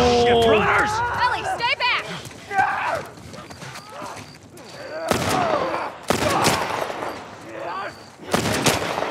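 Gunfire rings out in The Last of Us Remake video game: several loud, sharp bursts of shots among other game sounds, with people talking over the action.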